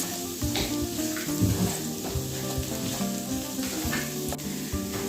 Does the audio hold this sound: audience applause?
no